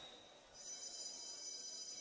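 A referee's whistle at a Serie A1 roller hockey match sounds as a sustained, piercing high tone that starts about halfway in and holds steadily to the end, over a faint arena background.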